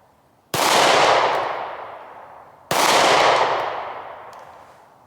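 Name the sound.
gunshots from a 9mm Shield micro-compact pistol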